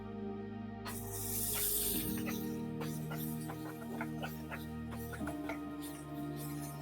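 Onion with crushed ginger and garlic hits hot oil in a pan, bursting into a broad, steady sizzle with crackling pops throughout, close and fairly loud, with a low kitchen hum underneath.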